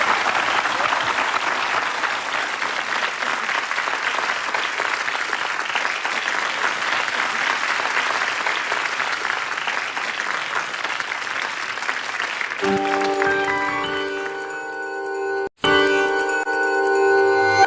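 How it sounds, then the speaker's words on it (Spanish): Audience applause fills a lecture hall, steady and sustained clapping for about twelve seconds before it gives way to a brief ringing tone and quieter room sound. "un aplauso para los chicos"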